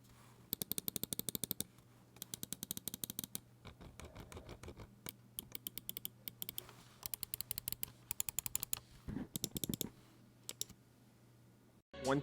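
Rapid bursts of crisp, dry clicks from the switches of a lightweight 60 g Ghost M1 gaming mouse, tapped in quick trains with short pauses between runs, close and clear with no talking.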